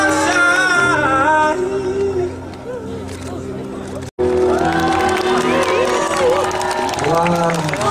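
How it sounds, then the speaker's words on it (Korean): An audience at a campus song festival in Yeoju cheers, whoops and claps loudly after a duo's cover performance, with a brief cut midway and the crowd noise swelling again, dense and close. "Please give them a big round of applause."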